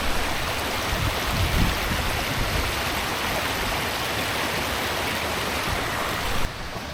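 A moorland river rushes steadily in a broad, close, unbroken roar of water with no voices, dropping slightly in level at the very end.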